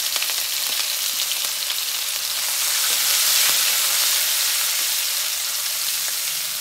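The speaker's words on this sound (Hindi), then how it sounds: "हुण तेल हो चुक्या गर्म ते मैं पहलां लहसुन जिहड़ा बरीक कट्टिया होया पा दांगी।" Finely chopped garlic dropped into hot oil, frying with a loud, dense, continuous hiss and crackle that swells slightly midway and carries on steadily, with no one talking.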